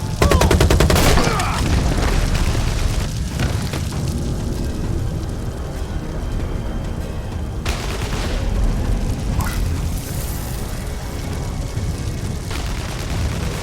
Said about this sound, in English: Yo, who's shooting over here?